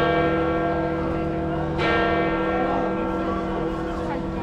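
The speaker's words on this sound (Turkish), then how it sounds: "Biz geliyoruz diye çanlar bizim için çalıyor herhalde." Church bells ring near the Vatican in Rome, a steady rich peal with layered overlapping tones at moderate distance, heard over outdoor ambience with faint voices.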